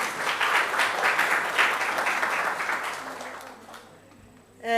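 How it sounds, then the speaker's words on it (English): A room full of people at a university language policy campaign launch applauds loudly, the clapping gradually fading out near the end. "Can you give her a round of applause?"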